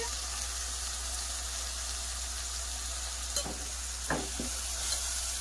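Prawn curry with tamarind leaves being stirred in a pan, a steady low sizzle with a few brief scraping strokes near the end, alone and fairly quiet.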